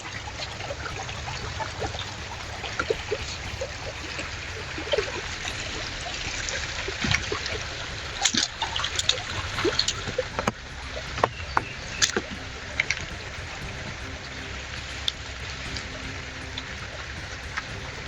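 Steady rushing water from a heavy downpour, with a dense broadband wash running continuously and loud close by, broken by scattered sharper splashes and knocks in the middle.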